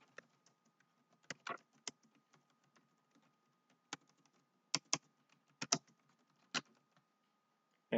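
Sparse keystrokes on a computer keyboard while a commit message is typed, with quiet taps clustering into short bursts and pausing between them, close and clear against near silence.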